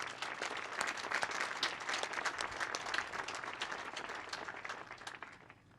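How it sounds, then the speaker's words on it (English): Sustained crowd applause for volunteers at an outdoor veterans memorial rededication, a steady dense wash of many hands clapping for several seconds before fading slightly at the end. "So they deserve a quick round of applause."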